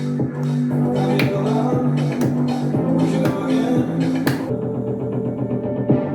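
Sharp claps marking the beat of a played song, recurring in a steady rhythm over a sustained musical bed before thinning out near the end.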